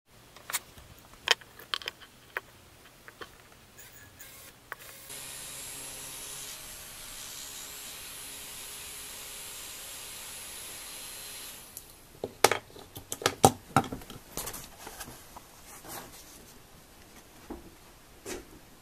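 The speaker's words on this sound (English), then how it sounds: "That motor is really spinning up, and the fan is throwing quite a bit of air." A model airplane radio-control motor powered from a battery panel spins a fan in a steady whirring whine for several seconds, framed by scattered clicks and handling knocks.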